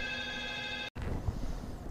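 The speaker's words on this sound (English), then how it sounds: "my phone's ringing." A phone rings in a garage workshop, a steady electronic trill for about a second before cutting off, followed by low room noise.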